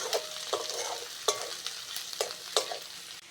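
Chopped onions and potatoes frying in a pan, with a soft sizzle beneath sharp spatula clicks and scrapes that come every half second or so, close and moderately loud.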